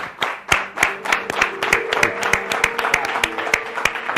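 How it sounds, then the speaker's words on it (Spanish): Welcoming applause from a television studio audience for an arriving guest, crisp individual claps close by forming a lively rhythmic burst that holds for about four seconds. "podríem donar un aplaudiment de benvinguda a Victorio Maganza"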